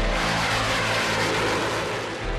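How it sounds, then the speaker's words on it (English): A Eurofighter combat jet roars loudly and continuously, a broad, dense engine rumble with no voices. "The entry into service of the most advanced swing roll combat aircraft in the world."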